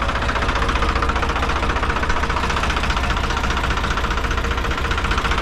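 A large New Holland tractor idles during corn silage work, a steady loud diesel rumble with a knocking, vibrating beat, close and continuous with no talk.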